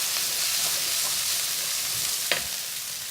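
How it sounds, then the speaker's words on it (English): Fresh ginger blended with oil sizzles steadily in a hot pan, a constant close hiss with a faint clink partway through and no talking. "Just going to make sure that sizzles to reduce the moisture content"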